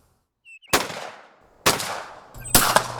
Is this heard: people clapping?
no